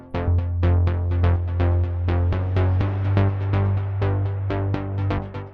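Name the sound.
layered synth basses together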